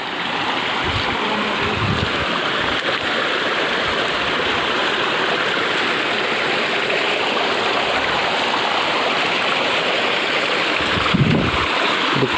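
On Malyagiri mountain, a stream of water rushes over stones in a steady, full babbling wash close by, continuous throughout, with a few faint knocks and no voices.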